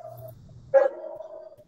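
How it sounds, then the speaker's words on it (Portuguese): A Rottweiler lets out a single short bark that trails into a thin, drawn-out whine, heard close and fairly quiet after a low growl. "2 Rottweilers doidas aqui. Ai, ai. Olha para aqui, vocês ouviram. E eu tenho uma cachorra que uiva."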